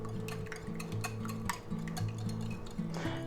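A utensil stirring and whisking seasoned egg mixture for an omelette in a bowl, producing soft, regular rhythmic clinks and scrapes against the sides, close and quiet over a steady background hum.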